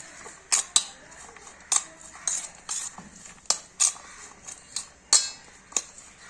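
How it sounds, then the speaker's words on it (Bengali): A utensil stirs spices and salt into batter in a bowl, giving repeated sharp scraping clinks against the bowl at an irregular pace, close and fairly clear with no talk. "এটাকে আমি এবার ভালো মতো মিশিয়ে নেব।"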